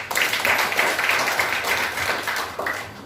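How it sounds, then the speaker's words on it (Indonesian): Church congregation claps hands during a worship service, a short, fairly loud burst of many hands clapping together in an irregular patter that fades slightly at the end. "Tepuk tangan."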